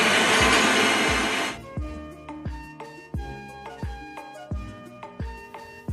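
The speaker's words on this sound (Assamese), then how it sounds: "মিক্সাৰ গ্ৰাইণ্ডাৰ এটাত মই এইখিনি গ্ৰাইণ্ড কৰি ল'ম" A mixer grinder whirs loudly for a second and a half, grinding spices with a little water into a fine paste for a dhaba-style matar paneer gravy, then cuts off into a series of hollow clattering knocks.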